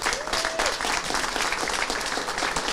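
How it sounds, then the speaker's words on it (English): An indoor audience at a library children's room grand re-opening claps for the staff in steady, dense applause that holds loud throughout, with a brief tone near the start. "could we please give the members of the staff a huge round of applause"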